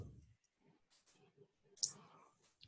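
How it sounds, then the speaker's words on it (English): Quiet clicking keystrokes on a computer keyboard, a few scattered taps at irregular intervals with one sharper click, close and faint in a quiet room. "So whenever you are typing, right, I'm typing like this"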